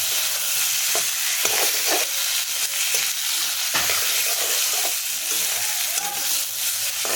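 Vetki fish pieces with kochu (taro) in a pan, sizzling steadily while a utensil scrapes and stirs through them, close and continuous with no talk.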